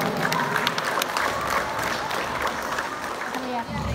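Applause from a gathered audience at a civic event, steady and dense clapping mixed with crowd murmur, continuous and moderately loud with faint voices underneath.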